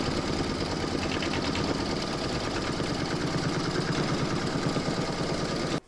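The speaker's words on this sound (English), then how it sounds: "You're now going to put your hoop into your machine and stitch round number 4 to secure it." An embroidery machine stitching fabric held in a hoop, a steady fast mechanical chatter running continuously and close until it stops abruptly at the end.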